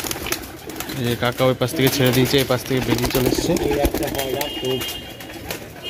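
Pigeons at a pigeon farm, many of them sitting on eggs, give low cooing calls that run throughout under continuous close conversation, with occasional knocks and handling noises.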